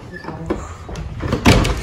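A door being pulled shut at a resort in Sciacca, southern Sicily, landing as a firm thump near the end amid room noise while someone talks in the background.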